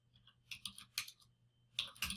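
A handful of quick, faint keystrokes click on a computer keyboard while entering figures into an Excel spreadsheet, coming in short bursts with small pauses in a quiet room.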